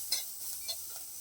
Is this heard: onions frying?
yes